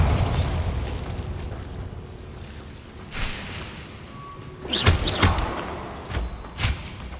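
Bombarda explosion spell cast in Hogwarts Legacy: a few sharp, loud blasts with bursts and debris crackle, close and punchy, spaced over the last few seconds after a quieter stretch of ambience.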